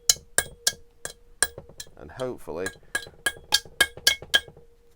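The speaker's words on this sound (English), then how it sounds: "you get the hammer and you just gently tap it" Metallic clinks of a hammer gently tapping an old 5/16 UNF stud from a Hillman Imp, a steady series of sharp, evenly spaced taps, close and clear, pausing briefly while a person speaks.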